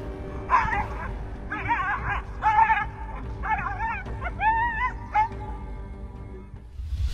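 A dog yelps and barks in a rapid series of sharp, strained cries while being attacked by a leopard, loud and close over a steady low rumble.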